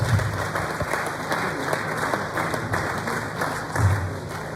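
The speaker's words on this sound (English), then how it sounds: "Please, let's give them a round of applause." An audience applauds council members at a birthday and retirement gathering, giving steady, moderately loud clapping throughout, with faint crowd murmur underneath.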